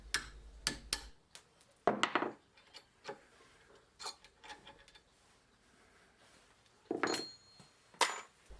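Sharp metallic taps of a hammer striking a punch to drive out a rivet from a hand plane, at irregular intervals, some single and some in quick pairs, close by with short pauses of quiet between them.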